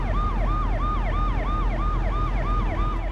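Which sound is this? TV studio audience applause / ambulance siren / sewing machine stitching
ambulance siren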